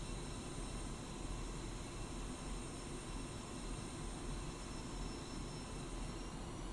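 A Su-25 Frogfoot jet in DCS World rolls on the runway with landing flaps set while its engines spool up. The roar is steady and broadband, loud and continuous throughout, with no voices.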